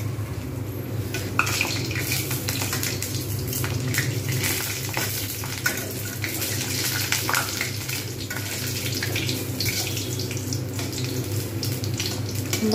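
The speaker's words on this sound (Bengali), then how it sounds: "উল্টে উল্টে দিয়ে সুন্দরভাবে আমি ভেজে নেব" Rohu fish roe fritters fry in hot oil in a pan, a steady close crackling sizzle throughout with occasional clinks of a utensil and no talk.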